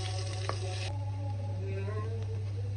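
Mushrooms sizzle steadily in oil in a pan while cream of mushroom soup is cooked, a continuous close frying hiss over a low hum with no talk.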